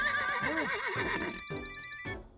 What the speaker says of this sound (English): Oh no, that horse is in trouble.